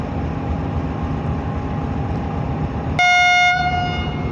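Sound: Bahauddin Zakariya Express train departing Drigh Road station

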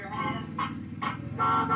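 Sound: toy ride-on car horn honking

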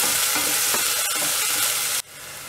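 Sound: onions sautéing in a pan

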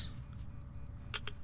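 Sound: beeping alarm in the video game Metro Exodus

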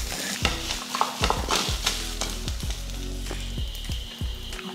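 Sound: stirring and sautéing beetroot in a pan for chutney

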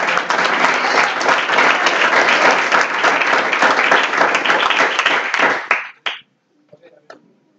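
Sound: church congregation clapping

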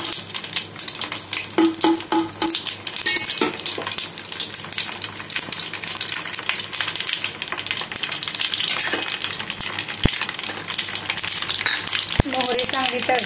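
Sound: mustard seeds crackling while frying in oil

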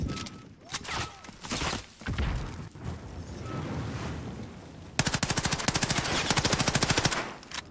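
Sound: gunfire in Modern Warfare video game

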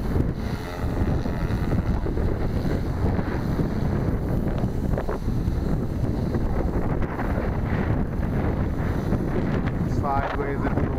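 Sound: wind blowing into microphone outdoors

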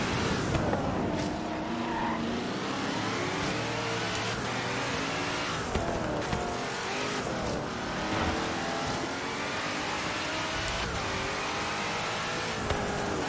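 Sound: fast car driving in Forza Horizon 3 video game

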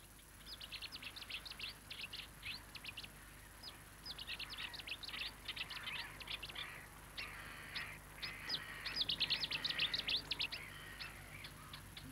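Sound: Cetti's warbler calling in reed beds, East Sussex

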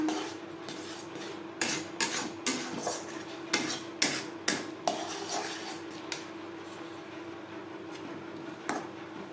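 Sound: semolina being stirred continuously in a pan while drying

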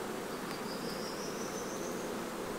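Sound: honey bees buzzing around an open beehive

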